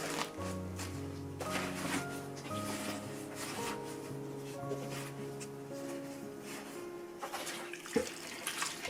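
Liquid being poured into a container packed with pepper leaves for a soy-sauce pickle, a soft, close, continuous trickle and splash with faint background music and a small clink near the end.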